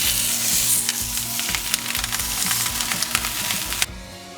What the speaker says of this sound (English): Saute the skin until crispy and golden brown